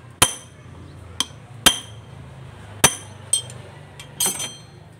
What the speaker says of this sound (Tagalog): pupukpukin nyo lang muna guys before nyo tanggalin, before nyo ikutin